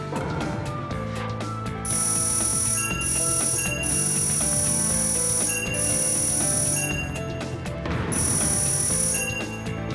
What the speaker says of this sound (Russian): когда его проходили Сакура, Саски и Наруто, они не смогли забрать колокольчики.